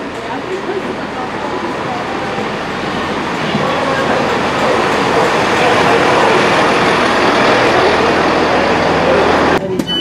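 A Great Western Railway train rumbles past close by, a loud sustained roar with a rhythmic rattling undertone that swells slightly before cutting off abruptly at the end.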